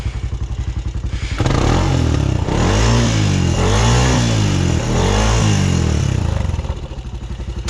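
A Rancher ATV engine revs hard while pulling a stuck recon vehicle out of clay, idling low at first, then surging into loud sustained rising and falling revs before dropping back to idle.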